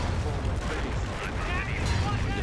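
Calliope rocket artillery barrage in the Company of Heroes strategy game, a dense rumbling stream of launches and impacts with crackling bursts, continuous and fairly loud, with a commentator speaking over it.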